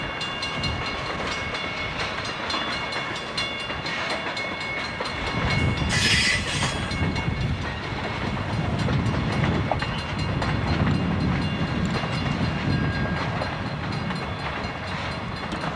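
A freight train rolls past on a local line, a steady heavy rumble with wheel clatter that swells midway, plus a brief high metallic squeal or whistle near the start of the swell.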